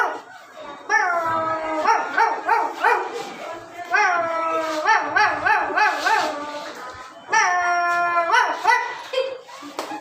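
A child imitates a dog with voice alone, making repeated barks and drawn-out howls in three rhythmic bursts, close and clear.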